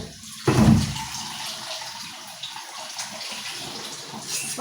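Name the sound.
water poured into pot of potatoes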